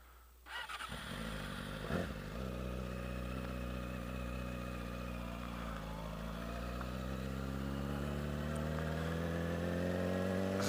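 Porsche cars circulating at Willow Springs Raceway, a sustained engine drone that builds after a sudden start and climbs steadily in pitch as the cars accelerate, fairly close and continuous with no talk.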